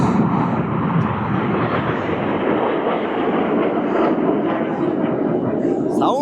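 A loud jet aircraft roars overhead at the Bahrain Airshow, a dense, steady rushing thunder that stays strong across the whole stretch, with a voice faintly present underneath.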